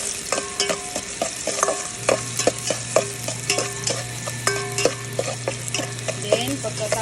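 Onion and garlic sauté in a hot pan for pinakbet, a steady close sizzle broken by repeated clinks and scrapes of a spatula stirring against the pan, with a low constant hum underneath throughout.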